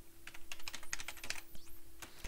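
Steady, rapid typing on a computer keyboard while entering spreadsheet data, a continuous close patter of keystrokes with a low electrical hum beneath.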